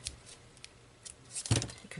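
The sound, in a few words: handling scissors while crafting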